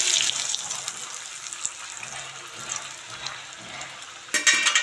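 Pitha rice cakes frying in oil in a pan, a steady bright sizzle running throughout, with a louder crackling burst near the end as something is turned or stirred.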